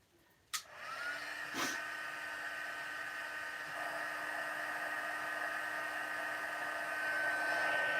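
Heat tool for gold heat embossing switching on with a click and settling into a steady whooshing, whining blower roar that keeps running and grows slightly louder, with no talk.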